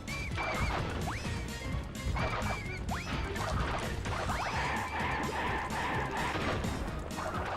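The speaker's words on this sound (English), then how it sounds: "He smashes the boxes for you." Crash Bandicoot smashes wooden boxes in Wrath of Cortex, a run of sharp cracking impacts mixed with game sound effects and rising chirps over continuous game music.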